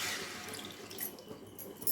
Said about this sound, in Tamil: இப்போ நம்ம அவல் எடுத்த கப்பால் 2 கப் தண்ணி பேன்லேயே சேர்த்துக்கிறோம்